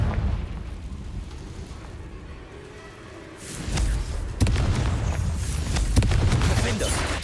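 Confringo fire spell blasts in the game Hogwarts Legacy, a quiet rumbling lead-in giving way to loud booming explosive bursts and thuds from about three and a half seconds on, with a voice heard over the action.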